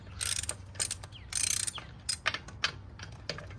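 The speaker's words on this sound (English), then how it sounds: "I have a decent sized half-inch ratchet here" Half-inch ratchet spinning car wheel lug nuts on a Mini Cooper Countryman, close sharp clicking bursts in several quick runs separated by brief pauses.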